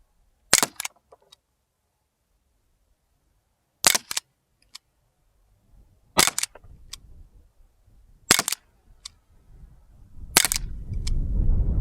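Umarex Colt CO2 BB pistol firing at a target 10 yards away, five sharp snapping shots spaced a couple of seconds apart, each followed by a faint tick, with low background noise rising at the end.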